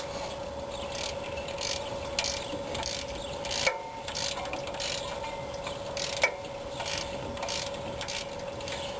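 A socket ratchet loosening a 5/8 water pump bolt on a 1965 Ford Mustang GT, with steady rapid clicking over a constant hum and a couple of sharper knocks, close up and alone.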